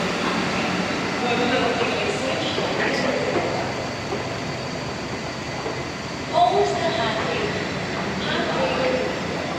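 A metro train ride in Kochi, heading from Edappally toward Lulu Mall, with a continuous rumble and rolling rail noise throughout and a faint short clack partway through.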